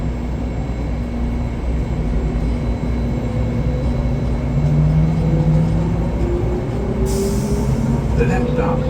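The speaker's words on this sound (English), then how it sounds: "This train is departing." Steady low rumble of the DFW Skylink airport train pulling away, with a rising whine as it gathers speed and a brief high hiss near the end.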